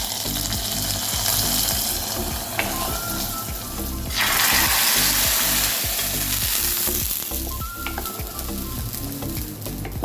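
Hot coconut oil tempering with dried red chillies, mustard seeds and curry leaves is poured into a curd-based colocasia curry, setting off a broad, loud sizzle that surges midway and then settles into steady frying crackle.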